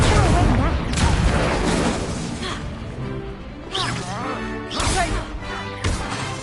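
Spell-casting effects from Hogwarts Legacy gameplay, fiery Confringo and Incendio blasts: a dense run of crashing, booming impacts and bursts, loud and continuous, with a few sharper flares along the way.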